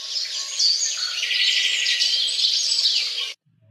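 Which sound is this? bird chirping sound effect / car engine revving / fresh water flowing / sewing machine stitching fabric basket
bird chirping sound effect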